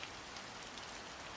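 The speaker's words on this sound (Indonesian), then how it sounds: "Malam itu, hujan deras mengguyur halaman sekolah." Heavy rain pouring at night over a school courtyard, a steady, dense hiss of drops with no breaks, set as a horror-story sound effect.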